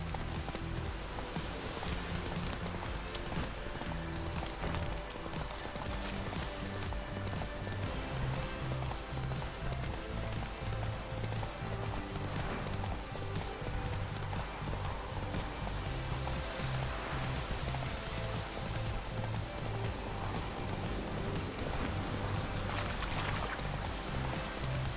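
Rhythmic hoofbeats of a galloping horse in The Witcher 3: Wild Hunt, steady and continuous for about twenty-five seconds, mixed with a rain-like wash of background noise at low level.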